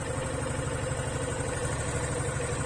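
A Suzuki Gixxer SF motorcycle engine idles nearby after its four free services and a paid service, giving a steady, even low putter with a fast regular pulse and no pauses or revving.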